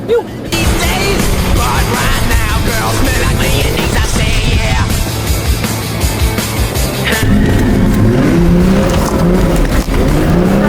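Loud, continuous engine drone of a 4WD with a six-speed, twin lockers and reduction gears driving a track, with rising and falling revs and rattling from the body over rough ground.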